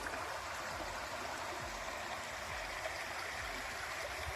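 The River Doyle in Brittany flows past a garden, a steady broadband rush of moving water with faint gurgles, constant and unbroken with no voices over it.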